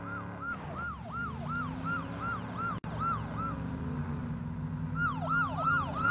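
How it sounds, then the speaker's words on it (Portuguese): A video game car's siren wails, sweeping up and down rapidly in repeated cycles over a low engine rumble, loud and continuous, with a brief dropout midway. "Dá pra ouvir de longe a sirene, cara."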